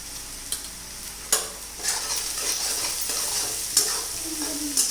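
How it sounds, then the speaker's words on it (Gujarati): Onion frying in hot oil with salt for vegetable masala rice, stirred with a spatula: a steady close sizzle broken by occasional scraping clinks of the utensil against the pan, no talking. "હવે તેમાં હું ડુંગળી એડ કરી દઉં છું"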